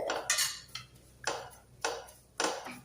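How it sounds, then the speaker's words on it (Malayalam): A utensil mixes kunafa chocolate ingredients in a bowl, giving four or five separate scraping, clinking strokes spaced about half a second apart, fairly quiet, with no voices. "ഇനി ഇതൊന്നും നന്നായിട്ട് മിക്സ് ചെയ്യാം"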